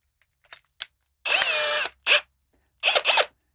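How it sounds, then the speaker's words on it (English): Cordless drill fitted with a 90-degree right-angle adapter, whining through short bursts as it bores pilot holes for a rolling shelf with stair treads; a brief tap, then one long burst, a short one and two quick pulses, close and loud. "now you've got kind of a weird looking contraption that gets right in there, although just barely enough so we can drill our pilot holes."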